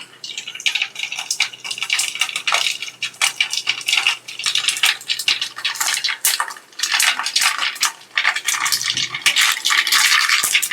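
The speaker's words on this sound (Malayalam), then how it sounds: "അപ്പോൾ നമ്മളെ കടുക് ഏകദേശം പൊട്ടി തീർന്നിരിക്കുകയാണ്" Mustard seeds crackle and pop in hot oil while fish pickle is being made, a dense run of sharp sizzling snaps that continues steadily for the whole stretch with no one talking.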